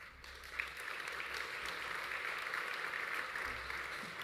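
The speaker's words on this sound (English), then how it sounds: "There will be a lot of applause" Symposium audience applauding speakers and a moderator at the end of a session, sustained dense clapping from a large crowd that holds steady and fairly even, with no talk over it.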